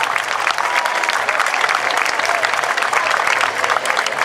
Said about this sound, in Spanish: Para ella un fuerte aplauso.